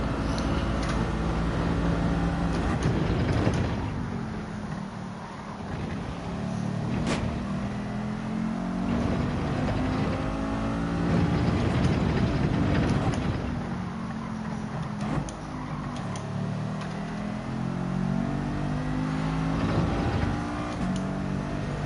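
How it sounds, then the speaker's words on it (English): Mercedes Gr.4 race car engine in Gran Turismo 7 at the Nürburgring GP, revving and droning steadily at high volume for the whole stretch, pitch rising and falling with gear changes, with no voices. "See how much you can use though, just by revving it out"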